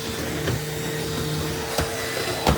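A vacuum cleaner running over a wool rug in a home, a steady moderate motor whine with faint tonal hum and a few soft knocks as the head moves, no voices.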